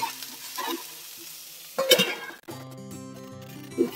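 Green chana cooked with salt over a slow flame gives a soft, faint sizzle and stirring, broken by a metal utensil clanking against the pan. A steady tonal hum follows.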